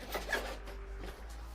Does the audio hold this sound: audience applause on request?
no